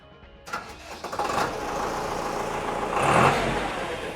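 A YTO 804 tractor engine cranks and catches after a brief quiet start, then settles into a steady diesel run and revs up to a louder, rising roar near the end.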